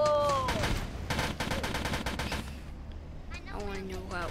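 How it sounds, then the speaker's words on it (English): Rapid automatic gunfire in a video game rattles in quick bursts, loud and close, broken by short pauses, with a few electronic sweeping tones from the game in between. "He's shooting our dead bodies."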